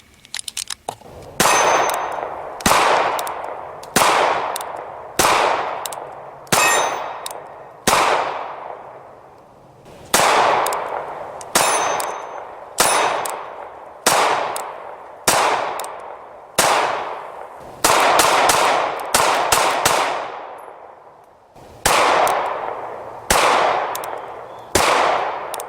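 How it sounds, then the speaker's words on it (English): A Smith & Wesson Bodyguard 380 subcompact pistol fires about eighteen single shots in steady succession. Each report is loud and sharp with a short ringing decay, with brief pauses between groups and no talking. "we're going to go ahead and take it out and do a little shooting and test this little baby out"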